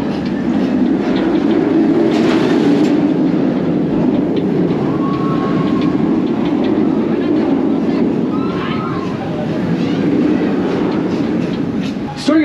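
A small amusement park train at Busch Gardens rumbles steadily along its rails with faint clickety-clack, loud and close, while a recorded safety announcement plays over it.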